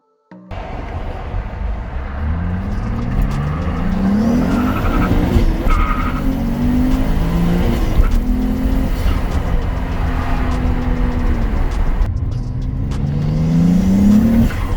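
A manual BMW E90 with the N54 turbo engine accelerates hard on a hot day, its loud engine note climbing through the gears in repeated rising sweeps with brief shift breaks, close and without talk.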